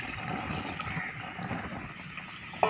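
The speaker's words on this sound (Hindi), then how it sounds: "उसके बाद इसमें पानी डाल देना है" Water poured into a pan of frying beef liver masala curry, a steady close splashing and gurgling fill that runs without pause before a sharp clink at the end.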